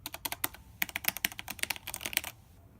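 Fast typing on a pricey mechanical computer keyboard with reprogrammable keys: a close, clear burst of sharp clacking keystrokes in a brisk, slightly uneven rhythm, then a short quiet at the end.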